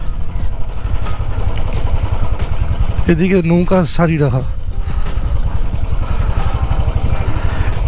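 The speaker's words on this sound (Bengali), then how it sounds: "আজকে মোটামুটি সাইড বরাবর যতটা ঘোরা যায় ততটাই ঘুরবো বাইক নিয়ে" A motorcycle rides along the Chilika Lake wetland at Mangalajodi bird sanctuary, its engine droning loud and steady close by, while someone briefly speaks over it midway.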